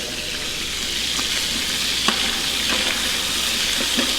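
Pieces of chicken fry and are stirred in a pan, giving a steady dense sizzle with scattered scraping clicks from the utensil and no voices.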